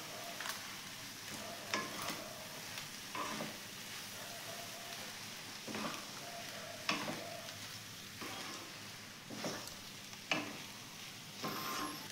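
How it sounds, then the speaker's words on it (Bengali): A spoon stirs and scrapes through fried rice in a hot pan after chopped coriander and garam masala powder go in, with soft sizzling and a steady run of irregular scraping strokes, close and fairly quiet. "গরম মশলা গুঁড়ো দিচ্ছি। ভালো করে মিশিয়ে নিচ্ছি।"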